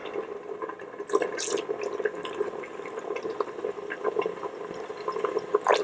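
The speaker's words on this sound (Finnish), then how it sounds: "tietysti tämä kaipaa myöskin vähän vettä" Water poured into a pot of chicken soup with coconut cream, a steady near splashing and trickling with small drips, heard on its own.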